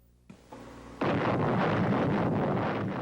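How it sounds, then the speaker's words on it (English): An open-air nuclear weapons test explosion from the early 1950s: a sudden onset followed by a sustained, heavy roaring rumble that stays loud and dense to the end. "Open-air nuclear weapons tests like these in the early 1950s were supposed to help the United States maintain worldwide superiority in the use of atomic weapons."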